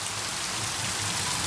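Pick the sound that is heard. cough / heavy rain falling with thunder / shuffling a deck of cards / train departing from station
heavy rain falling with thunder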